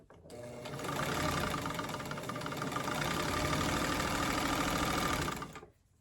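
An old sewing machine whirs up to speed, hums steadily and evenly for about five seconds, then winds down and stops, close and clear with no talk.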